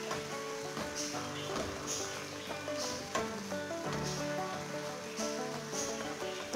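Potatoes frying in a pan with minced mutton give a faint, steady sizzle with small crackling pops, set under a continuous tonal background sound.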